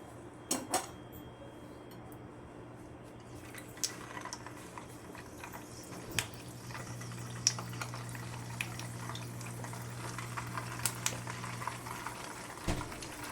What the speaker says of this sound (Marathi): तेल तापलेलं आहे तर आता मी गोळे हे सगळे त्यात टाकते